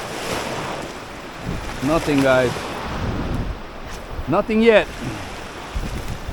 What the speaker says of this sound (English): Water is getting a bit of rough right here, guys.